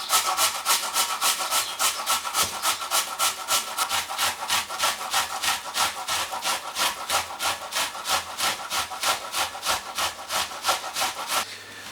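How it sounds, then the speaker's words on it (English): A potato and an onion being grated, a steady run of rapid, rhythmic rasping strokes up close, loud and continuous for about twelve seconds with no talking. "Then we grate the potato and the onion onto a clean"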